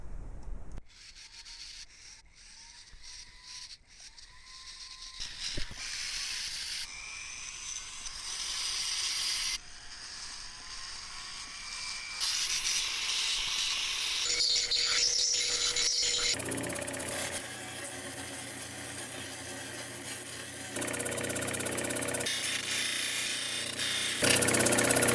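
Carving and sanding a stone specimen with a power tool, a long stretch of abrasive grinding and rubbing that shifts in pitch and intensity in several sections, loud and close, with no speech.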